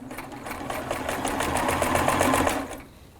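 A sewing machine stitching a fabric face mask runs in a steady, fast mechanical whir with a rapid rhythmic needle pulse, close and clear, then slows and stops near the end.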